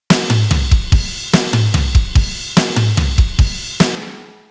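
A full mixed drum track, processed with a Brainworx Amek 9099 plugin, plays a steady loud groove of thumping kicks, cracking snares and bright cymbals, repeating the pattern about three times before ringing out.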